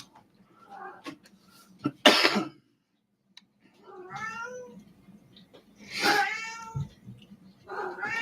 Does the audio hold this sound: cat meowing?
yes